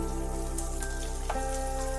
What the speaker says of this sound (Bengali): গাজরগুলো তেলের সাথে একটু ভালোভাবে ভেজে নিতে হবে।